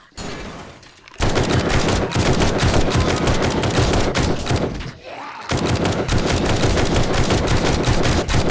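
Sustained automatic gunfire in the zombie survival game Alpha 21, a loud, dense burst of rapid shots running for several seconds, breaking off briefly, then resuming just as heavily.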